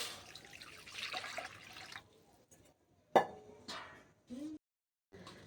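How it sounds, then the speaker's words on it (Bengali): Water pours into a kadai set on a lit stove, a steady rushing splash for about two seconds, followed by a few scattered knocks and clinks in a quiet kitchen. "দিয়ে দেব জল।"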